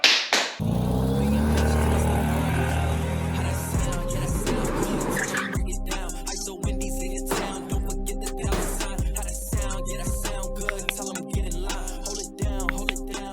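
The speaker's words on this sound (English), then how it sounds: "we also fire it up and let it run for about a minute" A 1951 Chevy hot rod engine on a budget build runs loud and steady, starting with a heavy rumbling burst and then settling into a rough, choppy idle with sharp regular pulses, close to the car.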